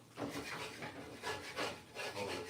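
A utensil scrapes cooked rice bits off the bottom of a pot in several rough, rasping strokes, close and moderately loud, with no talk over it.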